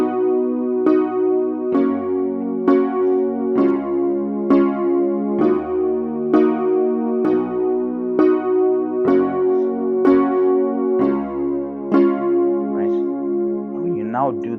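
Keyboard chord voicings with a single key held in the left hand, played as a steady series of sustained chords struck roughly once per second, close and clear, with no talking over them.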